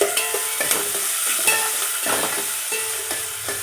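Tomatoes cooking in a hot pan with curry leaves for a Nellore-style broad bean pulusu, a loud continuous sizzle with stirring scrapes close by.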